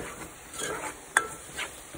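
A spoon stirs taco seasoning mix into food in a pan, giving soft scraping swishes with one sharp clink against the pan partway through, close and quiet with no talking.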